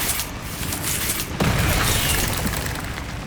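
A Bombarda spell blasts in Hogwarts Legacy, a single heavy boom that bursts in partway through and trails into a rumbling, debris-filled roar.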